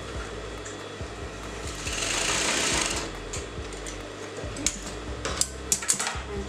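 A sewing machine stitching brocade fabric for a box-pleated long skirt, running in a steady whirring burst, then stopping for a few sharp clicks and taps nearby, with no talking.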